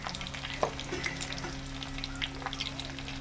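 Pieces of fish fry in hot oil with a steady, crackling sizzle, a sharp clink of a utensil near the start and light scraping as pieces are lifted out.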